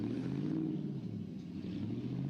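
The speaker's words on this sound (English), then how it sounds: "truck rolling up to start the first pairing in the Forge Line muscle truck shootout" A muscle truck rolls up to the start line at a mountain muscle truck shootout, its engine giving a steady, loud low rumble that holds throughout with no pauses.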